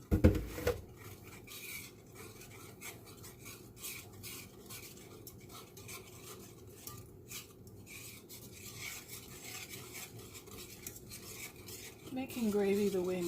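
A utensil scraping and stirring steadily around a pan of gravy made with whole milk, a continuous close rasping and clinking at the stove that grows louder near the end.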